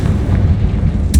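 A Confringo fire spell explodes in Hogwarts Legacy with a heavy, low thudding blast over dense rumble, followed by a sharp crackling burst at the end, loud and close.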